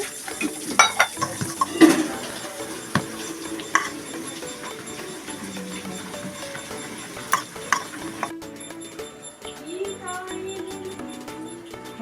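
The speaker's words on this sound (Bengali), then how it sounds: "আমি আগে বেসনটা ফেটে নিচ্ছি" Gram flour batter is beaten with water in a bowl, a steady rapid clicking of the whisk against the dish running throughout, with faint background kitchen sounds.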